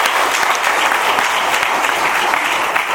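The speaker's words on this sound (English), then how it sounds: "Let's have a round of applause for them for doing this." Audience applause at an AA meeting in Doylestown, Pennsylvania: dense, steady clapping from a room full of people, loud and close, holding for a few seconds without a break.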